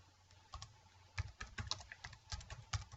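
Typing on a computer keyboard in a quiet room: a quick, uneven run of light plastic key clicks and taps, close and faint, with slight pauses between bursts.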